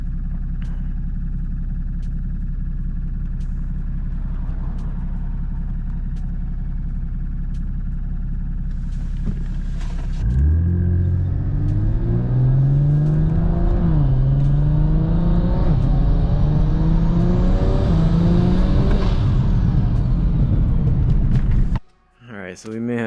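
A BMW B58 inline-six fitted with a big single turbo, running high boost, idles with a deep rumble, then revs hard in rising, wavering surges with turbo whine climbing over the engine note before cutting off sharply, loud and close.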